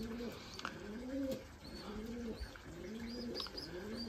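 Racing pigeons coo in their loft in a run of repeated, rising-and-falling calls, close and clear, with a few sharp chirps and faint wing shuffles between them.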